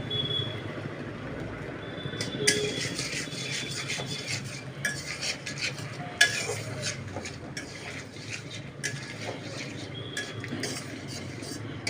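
Asafoetida sizzles in hot oil in a pan while a spoon stirs it. A low, steady hiss runs under repeated scraping strokes and occasional sharp metallic clinks against the pan, close and clear, with no talk.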